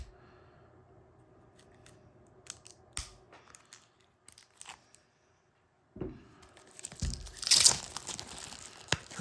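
A card pack wrapper for the Kill Team Salvation game is snipped with scissors in a few short close cuts, followed after a pause by louder crinkling and tearing of the foil packaging.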